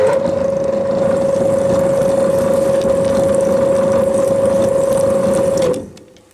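A lathe runs steadily while cutting a thread on a car wheel bolt, a loud sustained mechanical whine with a constant tone up close, then spinning down and stopping near the end.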